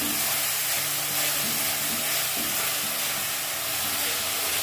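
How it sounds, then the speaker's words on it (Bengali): Onions frying in hot oil in a pan for egg malai curry give a steady, close, dense sizzle and hiss, with a faint low hum running beneath it and no talking. "পেঁয়াজটা ভাজা হয়ে তেল ছেড়ে আসলে তখন আমি বাকি উপকরণগুলো দেব"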